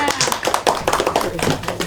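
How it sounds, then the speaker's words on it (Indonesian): Classroom clapping for a student presentation group, a burst of quick hand claps from a small group of students under overlapping voices. "kelompok 2 tepuk tangannya."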